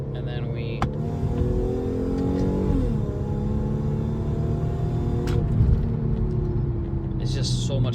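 An Infiniti M35x fitted with a new 75mm throttle body accelerates hard in second gear, its engine note climbing steadily and loud from inside the cabin over a continuous road rumble.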